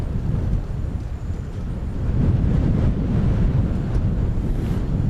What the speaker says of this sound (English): A really big gust.